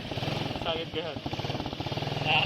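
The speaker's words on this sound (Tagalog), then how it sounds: "hinahanda namin yung motor kasi bobombahan namin yung swimming pool" Small motor engine running a pump to fill a swimming pool, a steady pulsing chug close by throughout, with a person talking over it.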